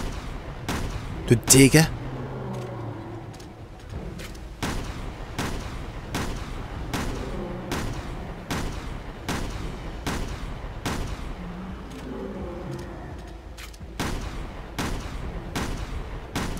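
Shotgun blasts in Resident Evil Revelations 2 Commando mode, a long series of sharp loud reports spaced roughly a second apart, with a voice talking between and under the shots.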